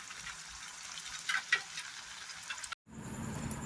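Goat meat frying with spices in a pan, stirred until the moisture cooks off: a faint, soft sizzle with light scraping of the stirring, then a brief dropout and a slightly louder sizzle.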